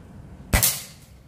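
A PCP mini AWM air rifle with a 30 cm barrel fires one sharp, close shot at a metal silhouette target, followed right away by a brief metallic impact, then quiet.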